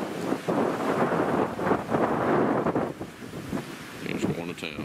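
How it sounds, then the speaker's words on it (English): Gusty wind buffets the microphone in a loud, rumbling roar outdoors near a newly installed HT Stacker antenna, easing slightly near the end. "She is windy today."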